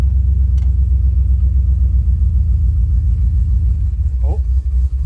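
A V8 Buick LeSabre left unused for 34 years idles with a steady low rumble as it is pulled down into gear, the engine loud and close with a brief mechanical clunk near the end.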